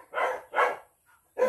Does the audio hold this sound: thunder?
no